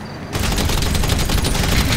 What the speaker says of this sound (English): Dude, I just blew up like 20 or 30 cars with the firework launcher